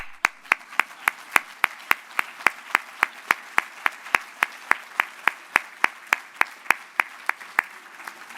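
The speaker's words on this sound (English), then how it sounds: "So let's clap it up." A steady series of sharp, evenly spaced claps rings out at an awards dinner for a drug-free kids campaign, fairly loud and rhythmic, about three per second, with no voices over them.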